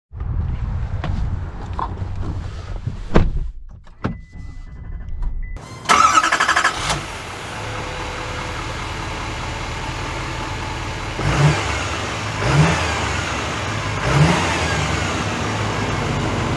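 A 2023 GMC Sierra 3500 Denali Ultimate pickup starts up, then idles and drives with a steady, moderately loud engine hum and a few brief surges, with no talking.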